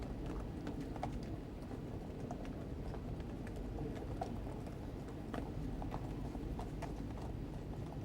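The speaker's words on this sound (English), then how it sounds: "And then 2 pairs of horses behind them." Horses' hooves of mounted Metropolitan Police clip-clop on a hard London road during the 1997 funeral procession of Diana, Princess of Wales, in a steady, overlapping rhythm, moderately distant, over a low background rumble.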